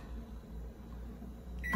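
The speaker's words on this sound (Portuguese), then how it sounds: "enquanto a massa tá lá no micro-ondas" A microwave oven cooking pizza dough gives off a low, steady hum that runs throughout, faint and close, with a sudden brief clatter of louder noise at the very end.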